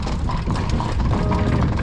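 Carriage horses in Vienna clip-clop along the street, their hooves striking in a quick, continuous rhythm of sharp taps, close and distinct.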